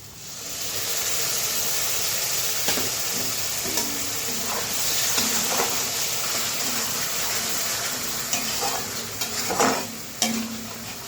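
Tomato paste frying and being stirred in a pan for a potol, potato and paneer curry, with a steady close sizzle and occasional spoon scrapes and clinks, and no talking.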